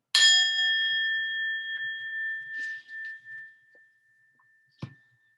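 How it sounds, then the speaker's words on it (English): A single bright bell strikes once and rings out, its tone slowly fading over several seconds in a quiet room, followed by a soft knock. "when you hear the sound of the bell,"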